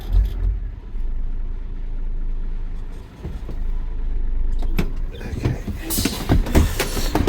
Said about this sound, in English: Reverse the truck up towards it.